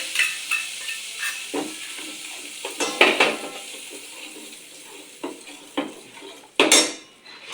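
A gravy of onion, green chili and coriander goes into a hot pan with reddened garlic and is stirred, giving a sizzling hiss with repeated sharp scrapes and clinks of a spoon against metal, close and loud.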